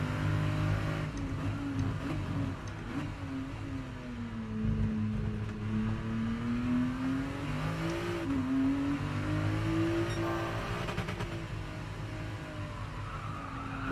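A race car engine in GT Sport at Laguna Seca, a sustained revving drone rising and falling through gear changes and corners, with faint tire squeal, heard continuously without talk.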